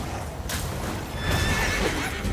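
A horse neighs loudly in the video game Black Myth Wukong, a short whinny rising over a dense backdrop of combat noise and hoof clatter, with no talking.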